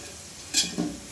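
Onions frying in a pan until golden for coconut rice: a soft steady sizzle with two quick scrapes of a spoon stirring, close by and without talk.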